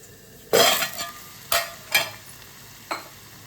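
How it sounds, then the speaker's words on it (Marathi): Toor dal with green chillies takes a hot tempering, giving sharp bursts of sizzling and spattering that flare loudly then fade, with a few smaller pops and scrapes following at uneven intervals. "हे पहा किती मस्त डाळीला फोडणी बसली आपली"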